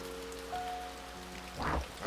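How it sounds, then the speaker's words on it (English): Soft rain falls in the video game A Bird Story, a faint, steady patter under quiet tonal game music, with a brief louder swell near the end. "I'm playing in the rain!"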